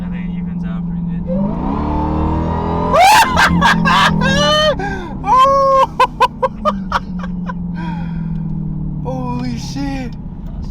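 A 2023 Dodge Durango Hellcat with its muffler deleted: a loud, close engine roar that rises into a sharp rev with several quick throttle blips and pops, then settles back to a rumbling idle while people talk and exclaim.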